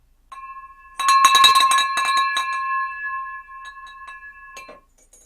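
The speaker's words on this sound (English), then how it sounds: "Ring that bell again." A bell rings out clearly and close: one struck tone is followed by a burst of rapid, loud clanging that settles into a long, bright, shimmering ring slowly fading away.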